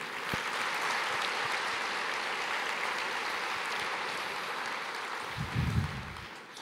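A church congregation applauds, a broad wash of many hands clapping at an even level for several seconds, with a brief low thump near the end and no voices.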